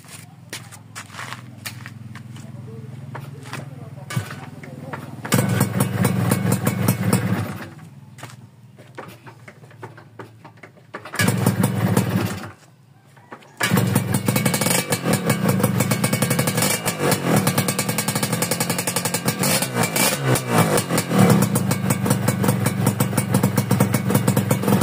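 A motorcycle engine cranks and catches, dies, then starts again and settles into a loud, steady idle close to the microphone, with a few pauses between attempts and a shuffle of movement.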